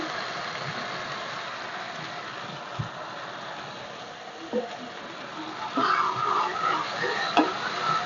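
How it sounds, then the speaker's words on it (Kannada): Five chopped tomatoes go into a hot pan for egg biryani being made in a pressure cooker, giving a soft continuous sizzle and hiss with stirring scrapes that grow busier toward the end. "ಇವಾಗ ಒಂದು ಐದು ಟೊಮೊಟೊ ಕಟ್ ಮಾಡಿ ಇಟ್ಕೊಂಡಿದ್ದೀನಿ ಅದು ಹಾಕ್ತಾ ಇದ್ದೀನಿ"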